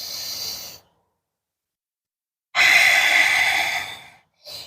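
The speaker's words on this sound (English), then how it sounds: "Breathing here, one more full deep cycle of breath." Deep yoga breaths during a downward-facing dog hold: a loud, close exhale, then a long pause of silence, then a strong airy inhale or exhale lasting nearly two seconds, and the start of another breath.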